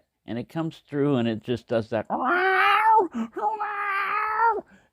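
Someone talks briefly, then mimics a cat with two long, drawn-out yowling wails, each held for about a second, close and fairly loud.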